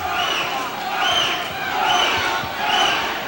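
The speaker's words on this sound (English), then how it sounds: "Crowd revving it up for Sean Fitzgerald" Boxing crowd at a Peter Manfredo Sr. vs Sean Fitzgerald bout roars for Fitzgerald, a dense, sustained wash of cheering and shouting that swells in waves, loud and continuous throughout.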